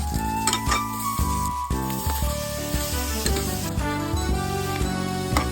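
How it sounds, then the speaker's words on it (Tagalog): Shrimp cooking in coconut milk with turmeric powder for ginataang hipon sizzle steadily in a pan, a loud continuous frying hiss with stirring, layered with background music and no talking. "heto, niluto ko na ang ginataang hipon"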